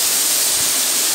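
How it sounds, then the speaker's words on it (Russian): The natural Kursunlu waterfall in Turkey pours down in a loud, close, hissing roar that stays constant and bright throughout the brief moment. "У нас вот так спадают водопады."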